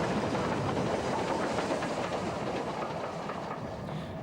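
A British steam locomotive of the 1950s, one of the 9F engines, running with steady rolling rail noise and wheel clatter, loud and continuous without any voices.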